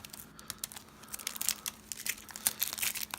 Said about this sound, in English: the cellophane wrapper does kind of open like a packet of cigarettes